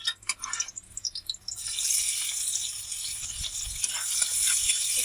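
Chopped onion dropped into hot oil in a wok over dry spices: after a few sparse taps and clatters, a loud, bright sizzle bursts in and holds steadily to the end.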